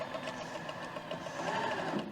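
A sewing machine stitching fabric runs steadily at close range, a continuous busy mechanical whir with no speech over it.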